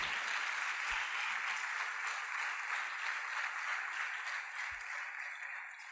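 Church congregation applauding during a sermon, a dense, steady wash of clapping from many hands that continues throughout and slowly fades slightly toward the end.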